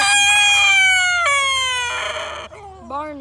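A Golden Buff rooster, a big, heavily feathered breed, crows close and loud in one long drawn-out call that falls in pitch, followed by a short rising squawk.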